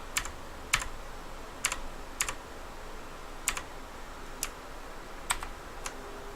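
Typing on a Skorpion K2 RGB mechanical gaming keyboard: sparse, separate key clicks at irregular intervals, close and crisp over a quiet room hiss.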